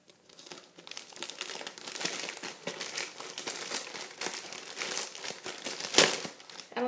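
Plastic wrapping on a mailed trade package crinkles and rustles continuously as it is pulled open by hand, with a sharper crackle near the end; no talking.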